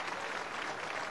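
Dense, steady applause from a crowd of Totino Grace and Cretin-Derham Hall high school football fans filling the stands, sustained and even throughout without a break.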